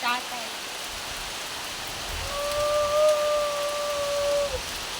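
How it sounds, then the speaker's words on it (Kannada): Steady monsoon rain pours down on a courtyard in a dense, even hiss, with a thin high whistling tone drifting in for a couple of seconds midway. "ಒಳ್ಳೆಯ ಮಳೆ ಬರ್ತಾ ಉಂಟು"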